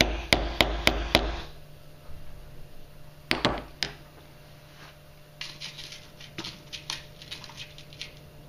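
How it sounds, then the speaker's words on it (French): Several sharp taps of a hammer on a punch piercing three layers of paper strike in quick succession at the start, then a couple more knocks and faint light tapping against a quiet background. "Alors le pointeur et le marteau, d'abord pour percer."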